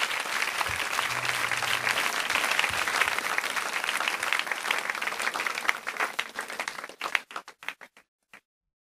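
A church congregation applauds in praise during a worship service, with steady, dense clapping that fills the room for about seven seconds before it thins into a few last scattered claps.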